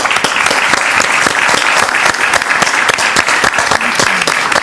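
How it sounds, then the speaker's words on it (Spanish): Loud, dense audience applause from a crowd at a televised Argentine studio show, steady sustained clapping throughout with no talk over it. "Para vos este aplauso."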